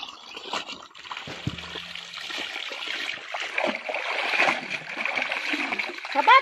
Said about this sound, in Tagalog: Malinis ang tubig. Galing sa bukal.